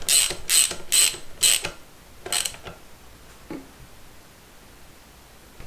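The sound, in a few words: wrench tightening bolt on 1974 Honda MT250 motorcycle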